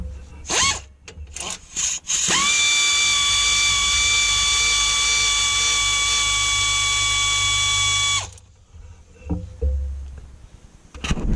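A ratchet wrench is used to remove the stock brace bolt on a Polaris RZR 800S. A few short clicks come first, then a loud, sustained buzzing whir runs for about six seconds, followed by scattered clunks.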